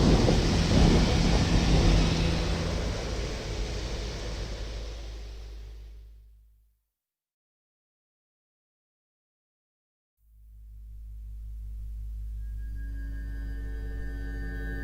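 A deep, rumbling thunder effect rolls heavily, then fades out to complete silence for a few seconds. It returns as a steady low rumble with a faint ringing tone above it, with no talking.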